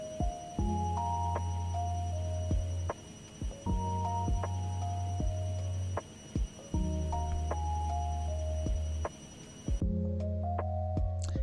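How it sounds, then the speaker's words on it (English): A Mekanism machine runs in modded Minecraft, cycling through repeating loops of low throbbing hum with sharp clicks and bright electronic tones, pausing briefly between cycles, with no talking over it. "this one is kind of the most annoying machine in Mekanism"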